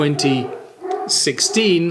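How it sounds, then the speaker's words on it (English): Dogs in a garden bark and howl in the background, with several yelping, wavering calls heard under someone talking close up. "Now, you might hear some dogs barking in the background."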